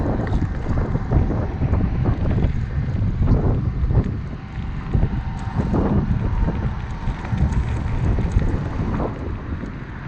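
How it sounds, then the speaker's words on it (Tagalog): Steady, blustery wind roars and buffets the microphone throughout, with low rumbling gusts and faint background noise, no voices. Recorded outdoors in Kuwait. "Medyo mahangin ngayon."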